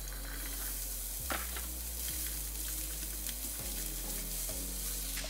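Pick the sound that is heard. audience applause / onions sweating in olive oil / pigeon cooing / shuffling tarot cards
onions sweating in olive oil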